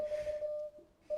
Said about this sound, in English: Good old Morse code. That's me transmitting